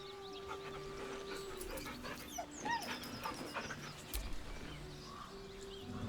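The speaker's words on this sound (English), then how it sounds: "The dog whimpers nervously, as if to urge you on." Soft, faint whimpering and panting from a dog in the fantasy role-playing game Baldur's Gate 3, a few short nervous whines over a hushed ambient background.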